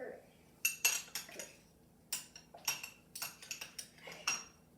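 Spoons clink and tap against dishes of tikka masala during a tasting, a quick series of sharp, close metallic chinks and scrapes in irregular clusters with a quiet room behind.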